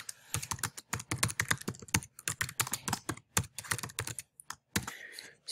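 Rapid typing on a computer keyboard, a dense run of close, crisp key clicks in irregular bursts with brief pauses, no voices.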